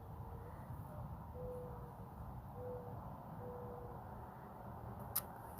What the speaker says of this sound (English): Did y'all hear the owl?